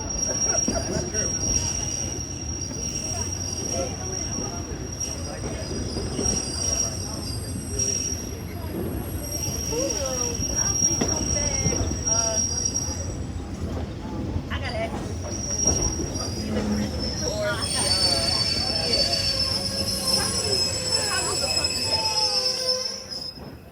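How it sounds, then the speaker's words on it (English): A museum railroad train in South Carolina rolls past with brakes dragging on one car, its wheels giving a sustained high metallic squeal over the steady rumble of the cars, loud and close, with voices faintly present. "We have some brakes that are dragging on one of the cars that's likely slowing the train"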